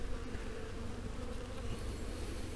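A dense, steady buzz of many honeybees at an open hive fills the air, loud and close, droning continuously without pause.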